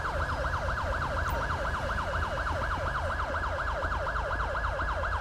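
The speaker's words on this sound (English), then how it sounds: "I'm pretty sure that's my siren that's still going" Wailing police siren in GTA 5 cycles steadily and rapidly up and down throughout, loud and continuous over a low engine rumble, with no talking.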